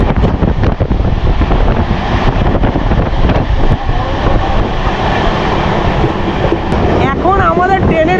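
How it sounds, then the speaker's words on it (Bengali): The Amrit Bharat Express runs at speed with a loud, continuous roar and rumble of wheels and wind heard from inside the carriage, and a voice speaks briefly near the end. "ট্রেন ভালোই স্পিডে কিন্তু ছুটছে"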